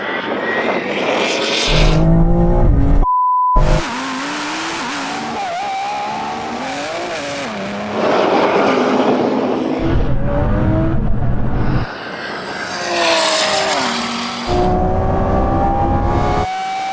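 Drag race between a Lamborghini Revuelto, a 1000-horsepower BMW M3 Touring and a 1000-horsepower Audi R8, with loud engines revving and roaring through gear changes, tire squeal at launches and bursts of acceleration, no voices.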